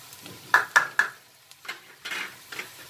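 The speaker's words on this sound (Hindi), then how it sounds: "इसको भी भून लेते हैं।" Carrots and onion stir-fried in a pan, with three sharp scraping strokes of a spatula near the start followed by softer stirring and scraping under a faint sizzle.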